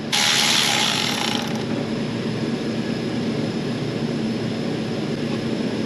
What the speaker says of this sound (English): I'll be taking off this lower roller.